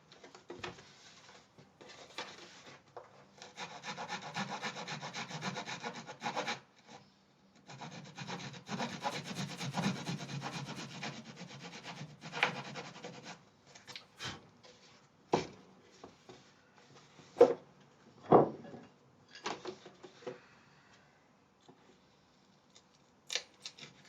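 Wood being cut or sanded during a custom guitar build: two long stretches of steady, raspy back-and-forth strokes, followed by scattered taps and knocks, close up with no talking.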